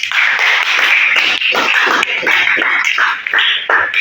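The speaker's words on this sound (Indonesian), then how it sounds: "Terima kasih Desa dengan aplaus" An audience applauding together, a sustained burst of dense clapping that keeps going for several seconds at close range with no speech over it.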